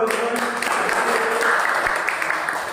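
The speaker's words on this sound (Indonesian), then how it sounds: "Kita aplaus dong." An audience in a room claps together, a steady, dense wash of applause that holds at an even level throughout without talking over it.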